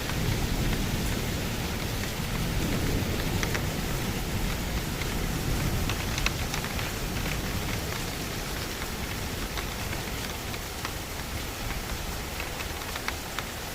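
Heavy rain falls in a thunderstorm, a thick continuous roar of drops on surfaces underlaid by low rumbling, steady and close with no voices.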